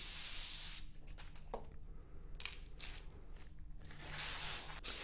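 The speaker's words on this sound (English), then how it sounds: "I'm shooting the pearl silver over my base coat sealer grey mix" An airbrush sprays pearl silver Auto Air Colors paint over a grey base coat sealer mix: strong hissing bursts at the start and end, with softer spurts and small clicks between them.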